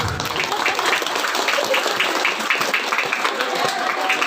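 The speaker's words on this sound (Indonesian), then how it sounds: "Aduh, tepuk tangan." An elementary school audience claps steadily after hearing that all of its students passed, dense clapping at a constant level with some voices mixed in.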